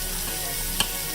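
Shrimp and chicken fry in a hot pan, giving a steady, close hiss of sizzling fat. A single faint click sounds near the end, and no one talks.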